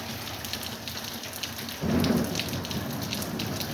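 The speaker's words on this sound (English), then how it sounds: "Big old thunderstorm out there." Heavy rain hammering steadily outside a house during a thunderstorm, with a deep thunder rumble rolling in partway through and lingering under the downpour; no voices.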